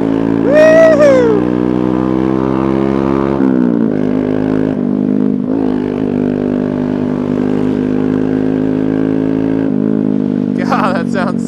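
Honda Grom motorcycle with an MNNTHBX aftermarket exhaust idling loudly and revving up briefly at the start, then a steady, rumbling engine note held close and continuous, with a person's voice sounding briefly near the end.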